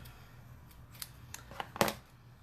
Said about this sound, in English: we're just going to trim the rest of that doily off